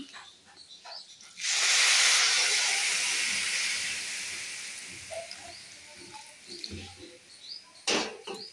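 Water is poured into a pan of fried food, setting off a sudden loud burst of hissing steam that slowly fades over several seconds, followed by a few light clinks.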